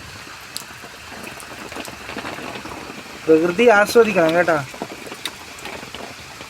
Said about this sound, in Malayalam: മഴയേ